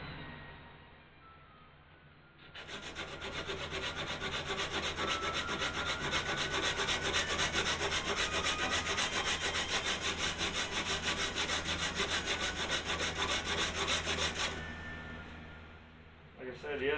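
Wood rubbed with an 80 grit sanding block, a fast rhythmic scraping that runs steadily and loudly for about twelve seconds before stopping, with quieter room sound around it.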